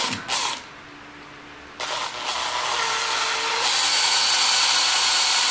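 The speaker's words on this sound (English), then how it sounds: "I drill a hole through the wood for the rod to pass." A power drill with a 3/16 inch bit whines up briefly, pauses, then spins steadily at high speed, its pitch rising as it bites through wood for a model railway turnout rod.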